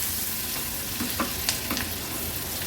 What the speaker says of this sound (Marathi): गॅसची फ्लेम लो टू मीडियम वर ठेवून कांदा थोडा तेलावर आपल्याला परतून घ्यायचा आहे।